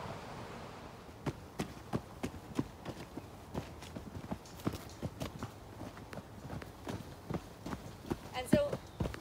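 Someone stamps on forest ground with a series of dull, thudding footfalls in an uneven rhythm, close by, with a voice speaking in the background.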